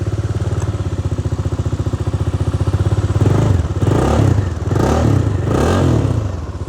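A Bajaj Dominar motorcycle left idle for two weeks cranks over with a rapid, even chugging, then its engine catches and revs loudly in several rising bursts, close by.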